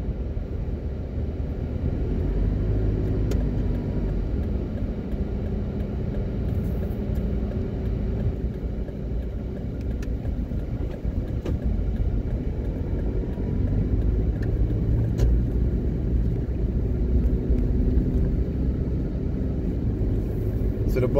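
A car drives along a road in Jamaica heading into the Bog Walk Gorge in St. Catherine, with a steady low engine and road rumble running throughout and occasional light knocks.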